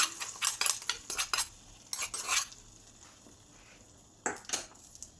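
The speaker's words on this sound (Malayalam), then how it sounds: "ഒഴിച്ചു കൊടുത്തൊന്ന് ഇളക്കി കൊടുക്കാം" A spoon clinks and scrapes against a metal pot as tempered onion, dried red chilli and chilli powder are stirred into a dry-roasted coconut chicken curry, coming in quick bursts with short pauses in between.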